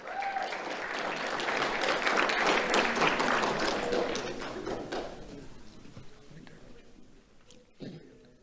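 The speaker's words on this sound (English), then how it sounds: "Let's have a round of applause for Rachel Mencia." An audience applauds a kindergarten award recipient at a sheriff's office awards ceremony, dense clapping building and holding for several seconds before thinning out and fading, followed by a brief knock near the end.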